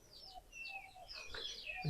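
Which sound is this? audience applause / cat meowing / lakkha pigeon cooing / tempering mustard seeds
lakkha pigeon cooing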